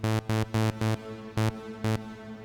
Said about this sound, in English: So it like creates a reverb an octave up